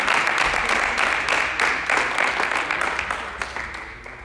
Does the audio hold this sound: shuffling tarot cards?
no